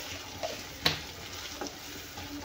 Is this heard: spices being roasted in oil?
yes